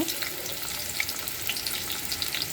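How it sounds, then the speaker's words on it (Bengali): Onions frying lightly in a hot pan give a steady, dense sizzle that crackles on without a break. "পেঁয়াজটা হালকা ভেজে নিব।"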